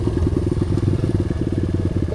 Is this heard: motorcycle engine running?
yes